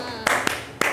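Three sharp hand claps spaced apart during a classroom clapping game, standing out against a low room hum with a faint voice underneath.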